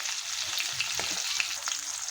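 Flipped pangas fish pieces frying in oil, a continuous close hiss and crackle with small pops and a brief utensil scrape, no voices.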